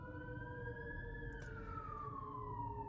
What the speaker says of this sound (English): thank you, fire truck or ambulance